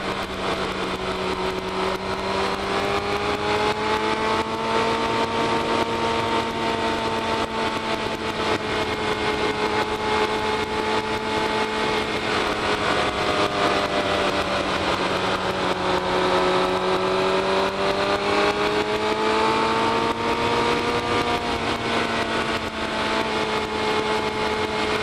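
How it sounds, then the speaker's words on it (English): Motorcycle engine fitted with a Yoshimura R55 exhaust, heard while riding through Bouquet Canyon: a steady, loud drone with pitch slowly rising and falling as the throttle shifts, under constant wind noise, with no talking. "This bike also has a Yoshimura R55 exhaust, which was installed by the previous owner."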